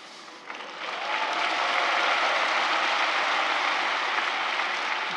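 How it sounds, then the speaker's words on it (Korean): Sustained audience applause at an Easter joint thanksgiving service held at Yoido Full Gospel Church, a broad even roar of many hands that swells in within the first second and holds steady throughout, with no talking over it. "태어나서 이렇게 박수 받아오기는 처음이고요"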